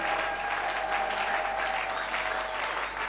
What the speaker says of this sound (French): acclame encore un peu mieux que cela